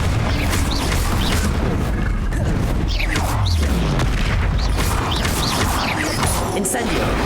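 Confringo blasting-spell explosions in the Hogwarts Legacy video game, heavy booming hits and crashes within loud continuous combat effects, with spell-casting voices over the fight.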